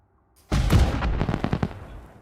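A loud burst of fireworks in the video game Elite Dangerous: Odyssey, a sharp boom that breaks into a rapid string of crackling pops, close and with no voices over it.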